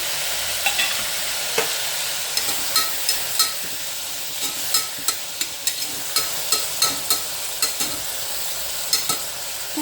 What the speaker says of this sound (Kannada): ಈಗ ನಾನು ಹೆಚ್ಚಿಟ್ಕೊಂಡಿದ್ದಂಥ ಒಂದು ಎರಡು ಟೊಮೊಟೊ ಕೂಡ ಇದಕ್ಕೆ ಹಾಕ್ತಿದ್ದೀನಿ